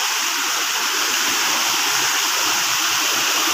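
The Ci Koning waterfall near Bogor roars as a loud, dense, unbroken wash of falling water, close and constant with no voices heard.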